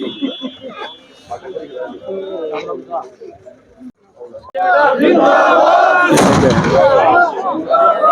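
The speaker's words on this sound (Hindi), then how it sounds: "पटाखे फोड़े जा रहे हैं।" Firecrackers burst amid a cheering crowd at an office inauguration event in India, with a dense, loud crackling barrage starting midway and continuing over a roaring crowd, after a stretch of voices and chatter.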